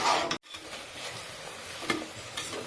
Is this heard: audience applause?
no